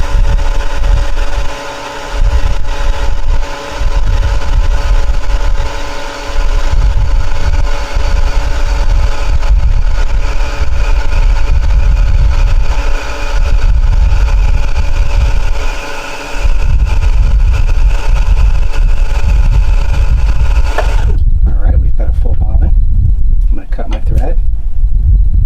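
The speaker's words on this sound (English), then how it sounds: "it's winding a nice even bobbin" An Elna 520 sewing machine winding a bobbin runs with a loud, continuous motor hum and whir that holds steady for a long stretch, then cuts off near the end.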